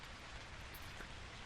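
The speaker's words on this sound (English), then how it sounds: "Outside, rain resumed on the roof." Steady rain falls on a roof, a dense and even patter that continues without a break, with no voices.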